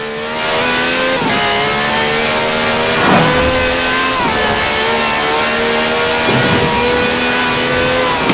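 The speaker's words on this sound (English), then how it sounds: "No clattery diesel engine here. This has a V12 with over 750 horsepower, plus bucket seats." A V12 engine of over 750 horsepower revs hard in a car in Forza Horizon 4, a loud, sustained whining drone that climbs in pitch, with three sharp shift-like breaks.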